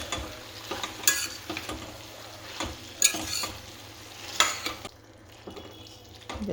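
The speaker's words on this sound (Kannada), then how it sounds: "ಸೊ ಈಗ ಇದಕ್ಕೆ ಮ್ಯಾರಿನೇಷನ್ ಮಾಡಿರುವಂಥ ಪನ್ನೀರನ್ನ ಸೇರಿಸ್ಕೊಳ್ಳೋಣ" Marinated paneer and tomato sizzle and fry in a pan, with steady crackling broken by several louder stirring scrapes and clatters, close and alone before the sizzle dies down near the end.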